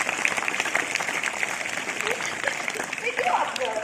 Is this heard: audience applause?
yes